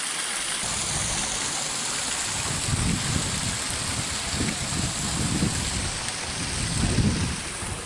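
A flowing stream along a natural stone hiking trail, heard as a loud, steady rush of water that fills the whole clip with a dense, hissing wash and some deeper surges, and no voices.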